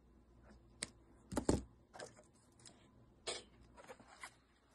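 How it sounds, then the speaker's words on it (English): A few quiet, sharp scissor snips trimming tied thread on a tipi, with small handling clicks, spaced irregularly, close by in a still room. "Now I'll trim it"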